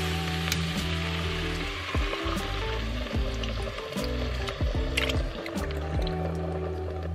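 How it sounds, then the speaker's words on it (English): Chicken bone broth is poured into a pan of sautéing ingredients on a home stove, giving a close liquid glug and splash over a continuous sizzle that lasts for several seconds. "Now I'm going to add in an entire chicken bone broth."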